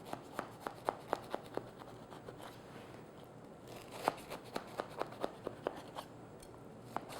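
A sharp knife cutting into a still-warm apple scone cake, making a faint, close run of small crisp crunches that tick at an uneven, quick rhythm, with a short pause midway and no talking.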